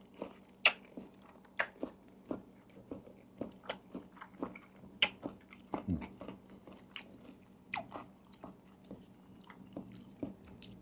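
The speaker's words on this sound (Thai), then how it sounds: "อร่อยมากมันจะกรุบๆปลาหมึกครับ" Crunchy squid in a spicy glass noodle salad is chewed close to the mic, a steady run of sharp crisp bites and crunches with quiet moments between them.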